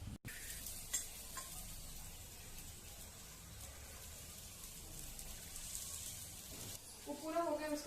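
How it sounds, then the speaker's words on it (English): Puran poli, a sweet stuffed flatbread, fries in oil in a pan with a faint, steady hiss throughout, and a brief voice comes in near the end. "Now we have to put it into the pan like the way you fry a normal paratha."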